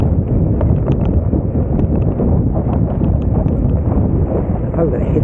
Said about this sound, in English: I've probably got a headwind as well